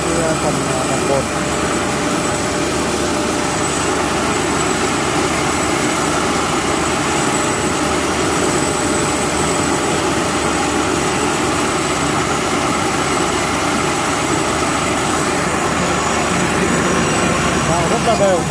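A mini home rice milling machine runs steadily at close range, giving a dense, constant mechanical whirr and grinding drone with no pauses.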